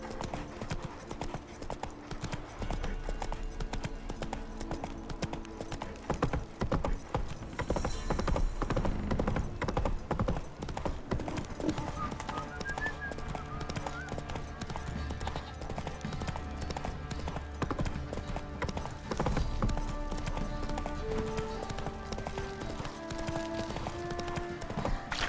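Roach the horse galloping in The Witcher 3, rapid rhythmic hoofbeats clip-clopping continuously over game ambience and music, with a brief whinny, no talking.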